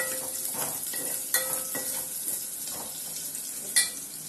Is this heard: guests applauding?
no